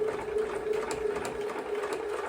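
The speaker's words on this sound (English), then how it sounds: "and keep sewing." Domestic sewing machine stitching fabric around a curved seam, a steady continuous motor whir with needle clatter, fairly close and running alone without pause.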